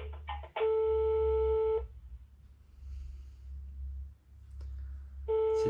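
A telephone call carries a repeating ringback tone, with steady beeps of about a second each separated by a long pause, heard clearly over a low background hum with faint breathing.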